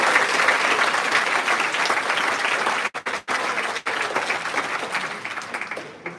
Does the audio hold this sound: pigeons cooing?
no